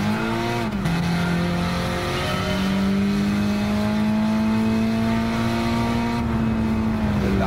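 A race car in a racing video game starts and revs, its engine drone climbing and holding at a high steady pitch, loud and close, with no voices over it.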